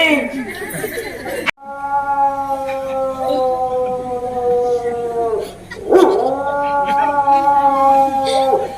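A human voice imitates a dog's long, wavering howl, drawn out twice with a brief break between, close and fairly loud, as a mimicry act by a Yakshagana troupe comedian.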